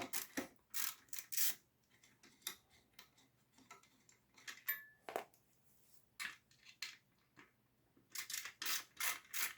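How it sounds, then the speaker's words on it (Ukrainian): Rear bolts on an electric scooter are unscrewed with a bit and wrench, producing close, quiet ratcheting clicks in quick clusters separated by short pauses. "за допомогою біти і ключа або викрутки просто відкручуємо без особливих зусиль задні болти"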